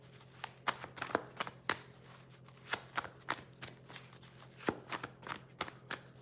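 Tarot cards being shuffled by hand in repeated quick riffling bursts, a dozen or so papery flutters with short gaps between them, close and fairly quiet over a steady low room hum.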